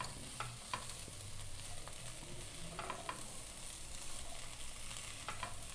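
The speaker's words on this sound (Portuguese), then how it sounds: "Vou adicionar duas folhas de couve picadinha e vamos misturar essa couve" Chopped collard greens are stirred into beans in a pan for feijão tropeiro: soft, quiet scraping and light sizzling with occasional faint taps of the utensil.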